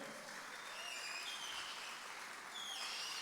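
A church congregation applauds during a retreat service, a steady wash of many hands clapping at moderate distance, continuous and even with no voices over it.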